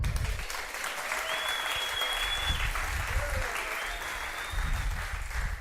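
Church congregation applauding at a service: steady, dense clapping filling the space for several seconds, with a faint sustained tone drifting above and a few voices calling out beneath the clapping.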